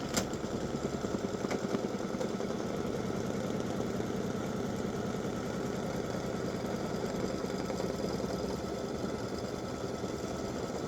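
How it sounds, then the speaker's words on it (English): An embroidery machine stitches a small open zigzag for an appliqué design, giving a steady, rapid mechanical chatter with even rhythmic pulses that runs close and constant throughout. "so it's just done a little open zigzag around there, and it's a very small little zigzag"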